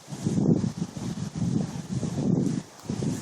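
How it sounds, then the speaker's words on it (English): Gusty north wind from Hurricane Isaac buffets the microphone near a tiny house sheltered by a large building, coming in several low, roaring surges that rise and fall, with no talking. "Right now the wind is coming out of the north"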